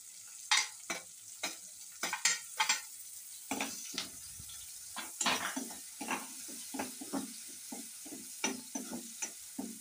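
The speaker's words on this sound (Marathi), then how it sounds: "हे सगळं पहिलं आपल्याला भाजून घ्यायचं. मिरची, टोमॅटो," Green chilies and tomatoes being stirred and roasted in a pan for besan bhakri, with repeated scraping and clinking of a utensil against the pan over a faint sizzle, close and alone without speech.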